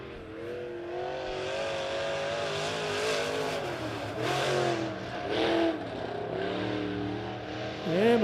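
B-modified race cars roaring around Springfield Raceway under a caution, engines droning and revving steadily with rising and falling pitch as cars pass near, loud and continuous with a brief surge near the end.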